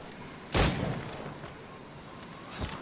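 Gunfire in Assassin's Creed Rogue: one heavy boom with a decaying rumble, then a softer second report near the end, with background ambience between.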